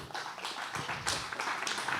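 Church congregation clapping for the Lord, a quiet, fairly distant patter of many hands over about two seconds with no talking.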